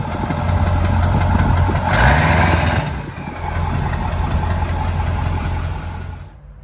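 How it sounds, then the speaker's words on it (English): A 1997 Ford OBS pickup truck on 24-inch Alcoa wheels rumbles steadily as it is driven and moved, a loud low engine drone that swells briefly, dips, then holds before cutting off at the end. "got that car out of the garage, and now we're moving my truck"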